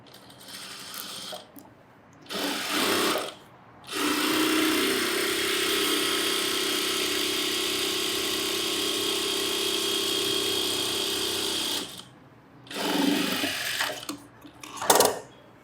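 A sewing machine stitching a chudithar, running in a steady mechanical whir for about eight seconds between shorter bursts, close and fairly loud, with quick starts and stops around it.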